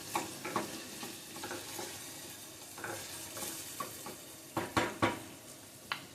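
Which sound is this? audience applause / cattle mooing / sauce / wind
sauce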